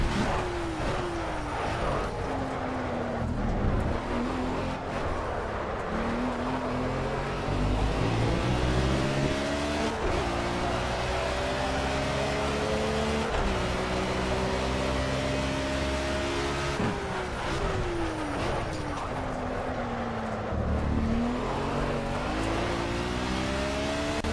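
A BMW M1 Procar race car at Spa in Project CARS holds a loud, continuous engine drone, rising in pitch through the gears with sharp drops at each shift, then revving up again over a lap, with no talk.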